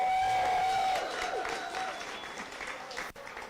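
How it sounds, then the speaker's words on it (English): An audience at a Taiwan startup demo day in San Francisco claps in agreement, a full burst of applause mixed with a ringing tone early on, then fading gradually toward the end. "clap your hands if you're in agreement"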